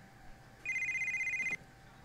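A cell phone in GTA Vice City rings with a warbling electronic trill, one sustained burst a little under a second long, close and clear over a faint game background.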